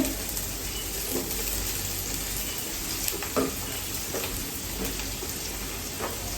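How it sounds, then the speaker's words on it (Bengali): Onions frying in a pan while liver bhuna is cooked, a steady broadband hiss of sizzling oil with a few faint clinks and small crackles, fairly close and continuous, with no talk. "সেজন্য এখানে পেঁয়াজ ভেজে নিচ্ছি"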